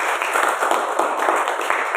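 A church congregation claps its hands in worship, a dense, steady wash of applause at moderate distance that holds evenly throughout.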